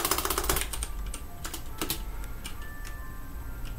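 Rapid clicking of a computer keyboard, close and moderately loud, with a quick irregular burst of keystrokes early on that thins into scattered taps over a faint steady hum.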